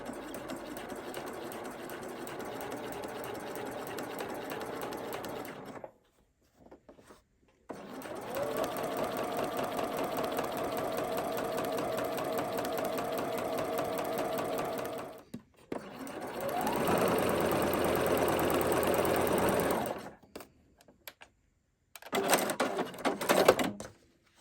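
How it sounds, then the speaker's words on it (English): A sewing machine runs a French seam through fabric, with a steady close whirring of stitches in several long runs broken by short pauses and a brief final burst. "So I'm going to place my needle into the fabric, run a couple of reverse stitches, and stitch that all the way down."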